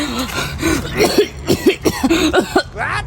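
Repeated harsh coughing close to the mic, a rapid series of throaty coughs and throat-clearing sounds.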